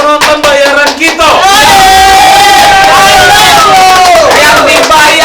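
A paid studio audience at a podcast taping yells loudly in unison, a sustained, raucous crowd shout that swells after a few sharp opening bursts and holds close and loud to the end.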